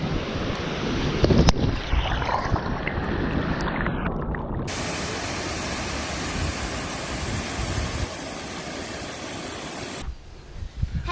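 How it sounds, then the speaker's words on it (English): Rushing water from a waterfall at Davies Creek in the Atherton Tablelands, heard very close as a steady broadband roar with some wind buffeting on the microphone. "Have you ever been closer to a waterfall than this"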